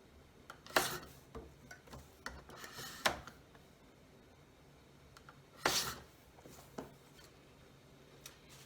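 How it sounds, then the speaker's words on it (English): Paper is trimmed for a handmade journal page, giving a few short, crisp cutting bursts spaced apart, with quieter rubbing and handling sounds in between and no talking. "let me give this a quick trim"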